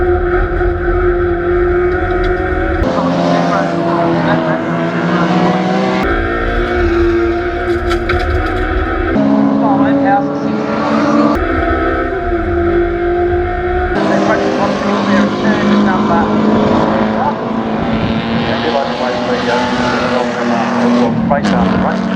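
Race cars in a production car race at Baskerville circuit, their engines droning loudly and continuously with shifting pitch as they speed past, overlaid by a commentator talking throughout.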